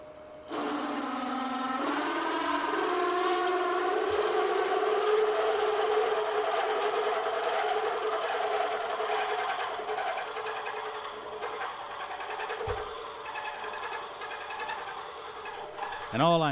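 A drill press bores into a blind flange, its motor and cutting giving a loud, steady whine that holds close and continuous throughout, with slight shifts in pitch and a brief knock near the end.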